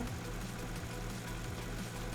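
Tractor engine idling in Farming Simulator 19, a steady low rumble with a regular pulsing throb that carries evenly through the whole stretch, with no voices over it.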